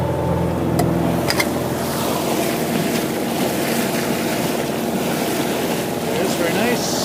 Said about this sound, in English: I'll show you the bow wave.